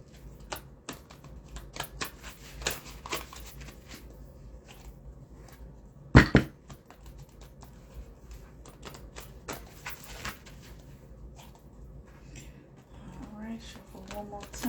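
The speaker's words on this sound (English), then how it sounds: "Alright, shuffle one more time." Tarot cards being shuffled by hand, a soft papery riffling and tapping that runs throughout alongside quiet talk, with one sharp louder snap or slap in the middle.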